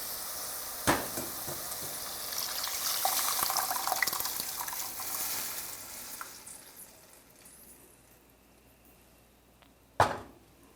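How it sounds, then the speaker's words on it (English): Black beans and their liquid pour into a hot pot of sizzling aromatics for vegan frijoles negros, a rising wet rush and hiss that fades out, framed by sharp clanks of the can or pot. "And finally, let's add the beans."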